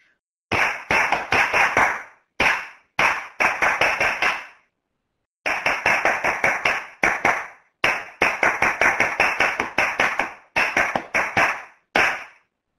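A single person claps a rhythmic tune in short phrased bursts of sharp, close hand claps separated by brief pauses, with no other sound between them.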